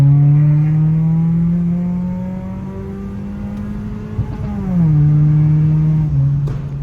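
Exhaust of a 2006 Toyota Camry XV30 fitted with a baby muffler and a mid resonator, holding a loud, steady droning note, then dipping and rising again as the engine revs up close.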